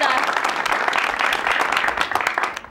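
Studio audience clapping behind the scenes of a New York talk show taping, a dense, loud, sustained burst of many hands that tapers off near the end.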